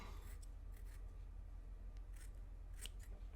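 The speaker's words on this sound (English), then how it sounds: "I grabbed out a piece of organic Japanese cotton, and I'm just going to cut off" Scissors snip through organic Japanese cotton up close, a few quiet crisp cuts in a row against a near-silent background.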